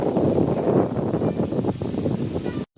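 Cool wind blows steadily as a broad, rushing buffet across the microphone, loud and continuous before cutting off abruptly.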